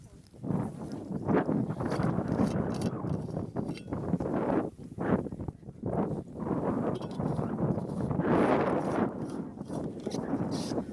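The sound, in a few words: wind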